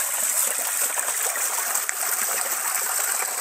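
Water flowing steadily over a small weir formed by a big willow tree, a continuous bright babbling rush with no voices, moderately near.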